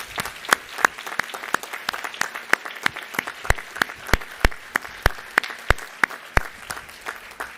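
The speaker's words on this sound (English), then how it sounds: "Please give them all a round of applause." Scattered applause from an audience at a White Coat ceremony, individual claps standing out sharply in an uneven rhythm over a soft room murmur.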